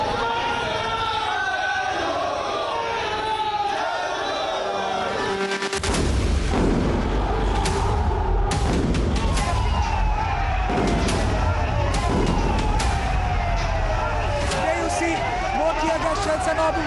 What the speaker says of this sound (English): Tear gas shells are now being fired over the protesters.